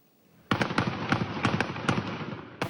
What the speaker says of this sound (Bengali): দফায় দফায় গুলির শব্দ